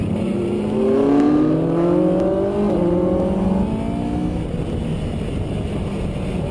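A Noble M600 road car with a Sadev gearbox being driven at the Nurburgring, a loud sustained engine note rising in pitch under acceleration, then holding steady through a continuous roar.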